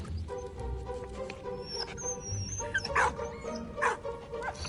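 A dog barks in the World War I video game Valiant Hearts, short yips and barks rising over busy game music and background effects, with a couple of louder bursts near the end.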